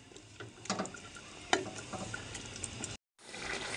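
Mutton korma frying over a medium flame, with a steady, close sizzle beneath intermittent scraping and clinking as the pot is stirred. The sound drops out briefly near the end, then resumes.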